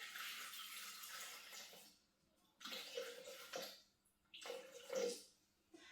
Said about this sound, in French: Et je vais aller mettre 300 grammes d'eau.